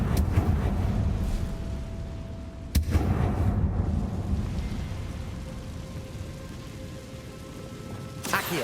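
A Confringo blasting spell goes off in Hogwarts Legacy as a sharp blast near the three-second mark, with a second burst at the end over a rumbling, rain-like wash of game ambience.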